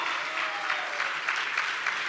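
A large indoor audience gives sustained applause for Anita and Clement Fu, a dense, steady wash of clapping that holds at an even level throughout, with no one talking over it.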